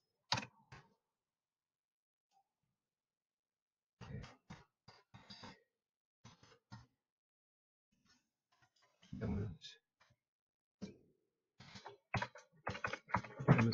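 Someone types a project description on a computer keyboard in short, quiet bursts of clicking separated by pauses, with a voice speaking softly in between.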